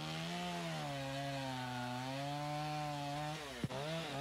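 Chainsaw carving a wooden bear, trimming around the neck: a steady, loud engine drone held close for about three and a half seconds, then a sudden dip and quick rev as the cut ends, with no talk.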